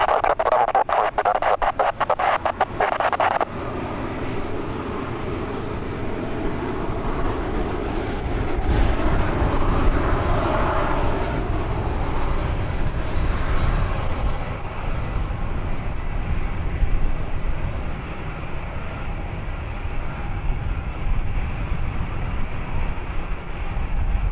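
An airplane on runway 9 at San Diego airport produces a loud, sustained jet engine roar, rising and swelling midway before easing into a steady rumble; brief radio-like noise is heard at the start.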